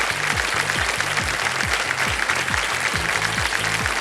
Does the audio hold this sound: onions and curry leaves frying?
no